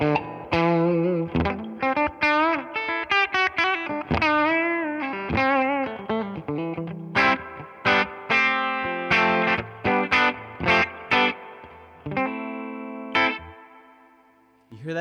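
Electric guitar on a custom Telecaster-style bridge pickup, clean tone, played in quick melodic runs and plucked notes with a bright, slightly compressed tone, each phrase separated by short gaps.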